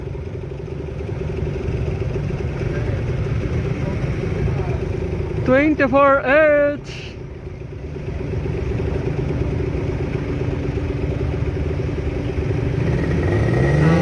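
A two-stroke motorcycle engine idles steadily and loudly throughout, with a brief burst of voice in the middle over the running engine.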